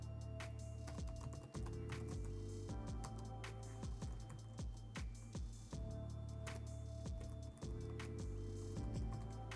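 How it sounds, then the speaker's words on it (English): Typing on a computer keyboard to enter an Azure CLI deployment command, a quiet, close run of quick key clicks in irregular bursts with short pauses. "we can do that by typing az group deployment"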